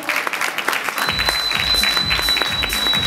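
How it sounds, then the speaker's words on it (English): Audience applause at Dubai International Fashion Week: a full room of steady clapping that starts faint and swells after about a second into dense, continuous applause, with a high tone running through it. "Can we have a big round of applause?"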